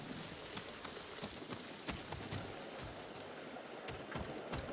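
Rain falls on a roof in the video game Ghost of Tsushima, a steady dense hiss of drops with scattered louder patters, continuous and alone.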